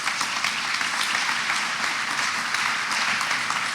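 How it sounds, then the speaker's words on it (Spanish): A large audience applauds a keynote speaker from a Latin American tech company at a conference, with dense, steady clapping that fills the whole stretch at an even level. "un fortísimo aplauso"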